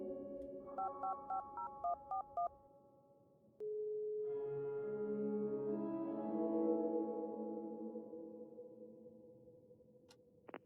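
Phone keypad tones in the horror game Darkness Within: a quick run of about seven short dialing beeps, then a steady tone giving way to a rising, swelling synthetic hum, ending with a sharp click.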